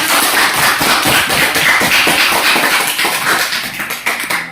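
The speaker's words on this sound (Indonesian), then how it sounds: "Tepuk tangan untuk kelompok A." A group of people in a classroom claps for a student group about to give a presentation, producing dense, loud, overlapping applause that stays steady for a few seconds.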